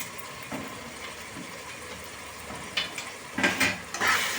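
Red chilli powder and garam masala fry for beetroot pulao, a soft sizzle under light stirring that grows busier near the end, with a few scrapes of the pan.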